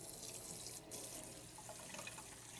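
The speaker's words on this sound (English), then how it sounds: "So I turn on the hot water" Hot water runs steadily from a kitchen sink faucet into a colander of cooked ground beef crumbles, a continuous close hiss with a brief dip partway through.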